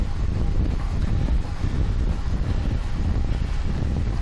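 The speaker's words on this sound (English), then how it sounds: "Now we get the wind in our face, and there's always a headwind here" Steady roaring wind buffets the microphone while cycling into a headwind on the road toward Verdi, a dense, continuous low rumble with no pauses.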